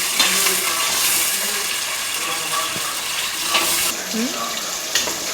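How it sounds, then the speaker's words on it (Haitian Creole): A steady stream of water is poured into a pot of tomato paste, with a continuous close rush of flowing water under faint background voices. "on va ajouter un petit de l'eau pour que la pâte bien fondre"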